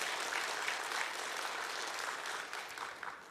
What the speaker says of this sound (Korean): 여러분 잘했다고 생각하시면 한번 박수 한번 해주시기 바랍니다.